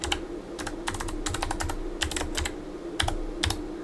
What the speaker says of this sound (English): I'm getting good at typing with one hand on a keyboard that's turned sideways.